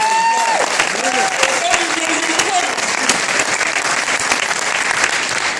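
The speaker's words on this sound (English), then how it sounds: "Give him another round of applause" Conference audience at the AFSCME Next Wave Conference applauds a union secretary-treasurer and vice president: loud, dense, steady clapping and crowd noise for the whole stretch, with a voice speaking briefly near the start.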